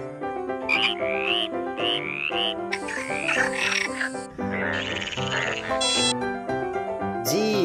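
A frog croaks several times in quick succession, loud and close, with bright, bouncy calls mixed with musical tones from a children's phonics song.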